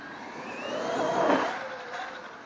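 A Traxxas X-Maxx 4x2 RC car runs at full throttle on a 6S battery, its motor whine swelling as it nears, peaking, then fading as it passes.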